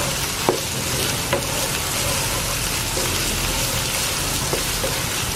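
Garlic, onion and ginger frying in oil in a home kitchen pan, a steady close sizzle with occasional light stirring clicks and scrapes throughout, no talking.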